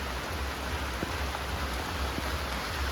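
Steady rain pours down outside a home, a dense, even hiss of drops on surfaces with a few louder nearby splashes and no voices.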